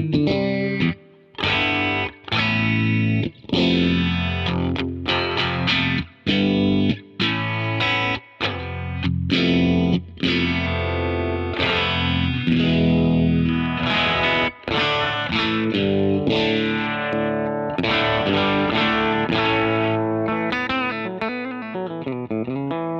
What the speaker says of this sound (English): I'll show you the phaser as well.